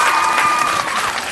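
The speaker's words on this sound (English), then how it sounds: "I guess that's also quite a nice moment to share again some applause here." Applause from a live audience at a startup demo day graduation talk show, a steady dense wash of clapping that fills the whole brief moment at close range.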